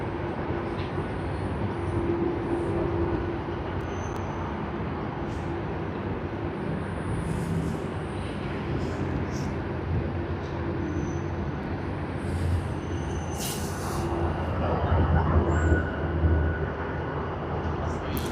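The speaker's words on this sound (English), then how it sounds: "we have Philippine Airlines taxiing to the runway for its flight" Philippine Airlines airliner taxiing toward the runway at Sydney Airport, a steady distant engine rumble and whine that swells slightly near the end, heard under background talk.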